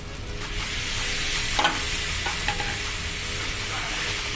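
Eggs frying in a pan of masala, a steady broadband sizzle with a few sharp stirring scrapes of a spoon against the pan, close and fairly loud, no voices.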